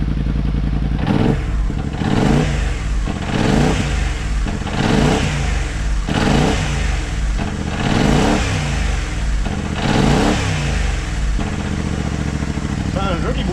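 A warmed-up moped with a CV3 exhaust is blipped repeatedly, about eight sharp rising revs in a steady rhythm, loud and close, each falling back to a rough idle.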